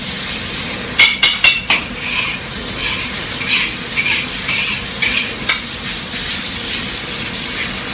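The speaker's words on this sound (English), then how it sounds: "Stir fry that up in the wok." Chicken wings in hot wing sauce and soy sauce stir-fried in a wok, with a steady loud sizzle and a few sharp scraping clatters of the utensil against the pan near the start.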